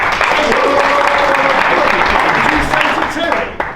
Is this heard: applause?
yes